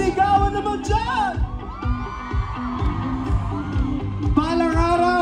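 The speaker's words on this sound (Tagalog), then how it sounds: "isang malakas sa sigawan naman dyan!" A crowd at a live event cheers, whoops and yells loudly and steadily throughout, with a voice calling out over the noise and music underneath.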